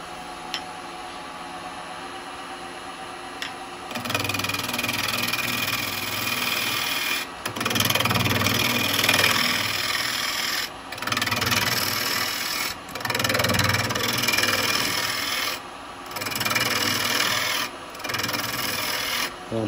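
A wood lathe spins a small piece while carbide chisels cut a tenon, giving a loud, raspy, continuous scraping hum that comes in several bursts of a few seconds each, with brief quieter gaps between cuts.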